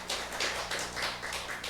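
Church congregation clapping for a deaconess: a short spell of quick, irregular handclaps from many people, moderately loud and somewhat distant, with no talking on top.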